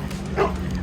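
Small dogs on a beach walk at Lake Tahoe, one brief yip-like bark rising over outdoor background noise, heard at a moderate distance.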